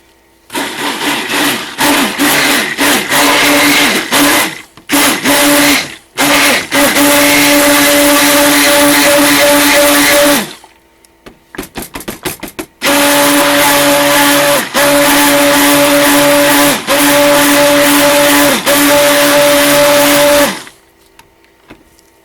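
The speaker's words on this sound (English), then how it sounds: "that's if I plug in the stick blender" A stick blender mixing powders for soap making runs in repeated loud whirring bursts with brief pauses between, then a longer continuous stretch before stopping.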